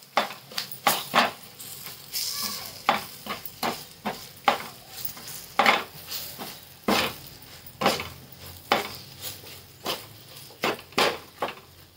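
Crushed peanuts are stirred into green chillies in a pan, with repeated close spoon scrapes and clinks in an irregular rhythm over a faint sizzle, and no one talks.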